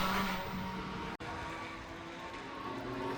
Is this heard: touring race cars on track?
yes